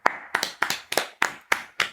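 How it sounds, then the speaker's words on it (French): Seven sharp, evenly spaced claps in a slow steady rhythm, close and clear, as an audience at a French stage show welcomes a guest; no talking over them. "On peut l'applaudir."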